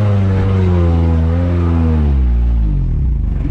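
An off-road 4x4 engine revs hard while climbing a steep slope, a loud, close, steady roar that climbs in pitch and then drops back toward the end, with no voices.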